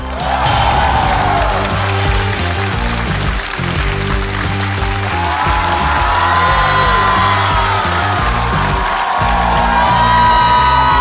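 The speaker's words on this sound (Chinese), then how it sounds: "掌声欢迎" A studio audience at a stand-up comedy talk show cheering, whooping and clapping to welcome two performers, loud and sustained, with music playing underneath.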